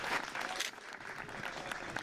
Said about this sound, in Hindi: जोरदार तालियां डॉक्टर साहब के लिए बजा दीजिए